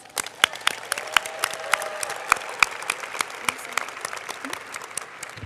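Audience at a school closing ceremony giving a round of applause, fairly sparse, distinct claps with sharp individual hits standing out over a softer patter of hands.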